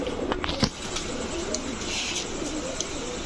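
Old-breed pigeons, a mix of males and females kept for sale, coo in low repeated calls close by, with a sharp flap or knock early on and steady background hiss throughout.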